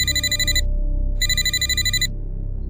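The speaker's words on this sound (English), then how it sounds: "That's when my phone rang again." A phone ringing in two bursts of an electronic bell-like trill, each about half a second to a second long with a gap between, heard clearly and fairly loud over a low steady background hum, with no voices.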